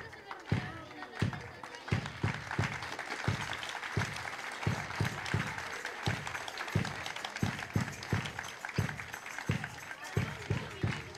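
An audience applauds students after a dance and song performance at a school event, with a steady stream of claps running throughout and some voices mixed into the crowd.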